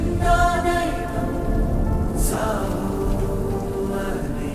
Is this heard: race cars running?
no